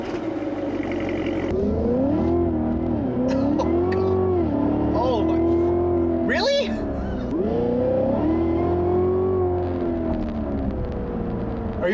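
A 2017 Cadillac CTS-V being driven hard, its engine revving up and down in repeated rising and falling surges with tire and road noise, while an excited voice talks over it.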